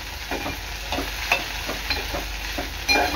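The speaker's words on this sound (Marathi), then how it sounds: "आता आपल्याला ही भेंडी आहेत ना झाकण न देता अशी शिजवून घ्यायची आहे" Okra (bhendi) sizzles and fries uncovered in a pan, with soft crackling and repeated stirring scrapes at a quiet, close level and no talk.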